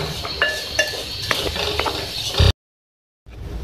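Semolina roasting in a pan for halwa, with a spoon scraping and clinking against the metal in a steady run of small knocks, then a brief silence before the stirring resumes.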